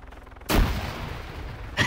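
In the military game Arma 3, a loud, close gunshot cracks out with a long booming tail, and a second shot follows about a second later.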